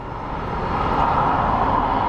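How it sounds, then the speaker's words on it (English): A Southwest airliner at Phoenix Sky Harbor airport roars steadily in a broad, loud engine rumble that swells slightly over two seconds, with no voices. "the Southwest planes come in and out and they flip around very easily"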